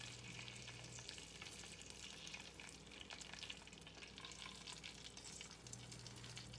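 Pork chops browning in a frying pan give a soft, steady sizzle and crackle that runs evenly throughout, fairly quiet and with no voices.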